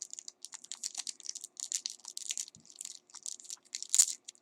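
A trading card booster pack is torn open by its tab: a close run of crisp, crinkling foil rustles and small tearing snaps over about four seconds, with a louder crackle near the end.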